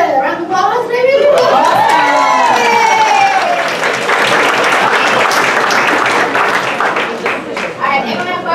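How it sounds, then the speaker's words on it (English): An audience at a founders' talk breaks into loud applause with scattered cheers and shouts, dense clapping sustained throughout while a voice rises briefly over it at the start. "Can I get a round of applause, maybe?"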